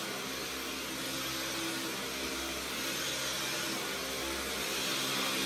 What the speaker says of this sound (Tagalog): Na-vacuum siya.